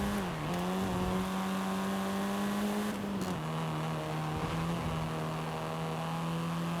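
Volkswagen Golf R engine in Forza Horizon 5, a steady humming drone with strong harmonics that dips slightly and recovers as the revs shift, fairly quiet and alone.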